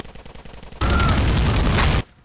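Rapid burst of gunfire in the video game GTA IV multiplayer, a loud, dense volley lasting just over a second, ending abruptly.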